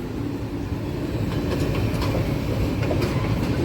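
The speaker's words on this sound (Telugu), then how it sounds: "రైలు బండి." Rumbling train cars roll past steadily at close range, a dense low roar with faint rhythmic wheel clicks, heard at night near the line without talk.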